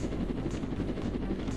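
A helicopter in the Roblox game Jailbreak gives a steady, close rotor drone that hums evenly without pause.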